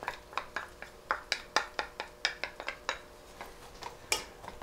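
Onions being stirred in melted butter in a pan for a sauerkraut, sausage and potato hash, with a rapid series of light metallic scrapes and taps of a utensil against the pan, fairly quiet and close.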